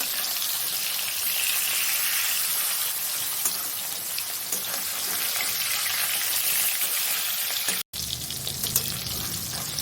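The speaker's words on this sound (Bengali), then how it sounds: "গোলমরিচ মাখানো মাছগুলো একটু হালকা করে ভেজে নেব।" Pepper-coated katla fish fries lightly in oil, a loud, continuous crackling sizzle close up, broken by one abrupt brief cut before the hiss resumes.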